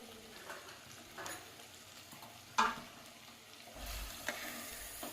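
Prawn fry with coriander stirred in a pan gives faint, soft scrapes and light sizzling, with a sharper clink of the utensil partway through and a low rumble near the end.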